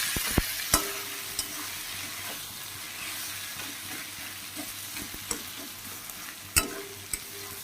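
Egg bhujia with ridge gourd is stirred in a pan on a switched-off gas flame, giving a soft, continuous sizzle and hiss with scattered spoon scrapes and a couple of sharper clinks against the metal.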